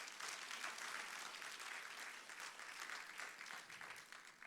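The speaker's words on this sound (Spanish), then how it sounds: "Denle un fuerte aplauso al Señor" A church congregation breaks into strong, sustained applause, dense and even, with the clapping holding at a constant level from start to finish.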